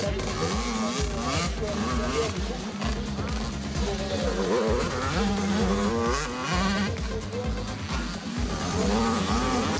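Motocross motorcycles race on the Plomion circuit, engines revving loudly and continuously with shifting pitch as bikes accelerate and pass, a dense mechanical roar throughout.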